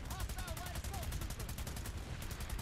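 Rapid automatic gunfire in the shooter Planetside 2 on PS4, fast bursts crackling amid a dense wash of combat noise, with a voice faintly under it.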